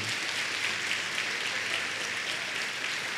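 A church congregation applauds together during a sermon, a full, continuous wash of clapping that holds at an even level throughout.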